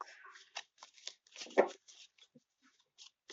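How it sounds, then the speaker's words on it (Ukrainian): Playing cards being shuffled and riffled in short bursts, close up, with soft taps and pauses between flurries. "Зараз я покладу гномів."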